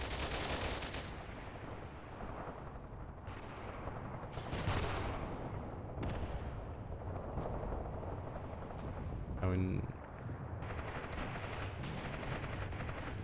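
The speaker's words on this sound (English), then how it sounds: "What is this machine gun, man?" Machine gun and artillery fire in the war game Mius Front, a dense continuous barrage with repeated blasts and rattling bursts, loud and close throughout with no break.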